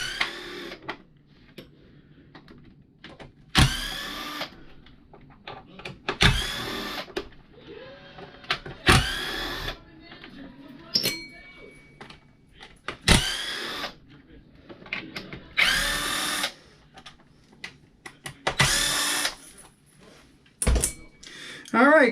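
Bolts come out of a Traxxas UDR RC truck under a whirring electric driver, in short bursts of high buzzing spin separated by quiet pauses, with faint clicks between them.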